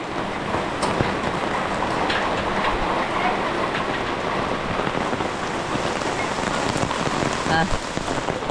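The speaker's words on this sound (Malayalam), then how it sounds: "നല്ല മഴയാണ്" Heavy rain pours down steadily, a dense, constant hiss of drops drumming on surfaces with no break.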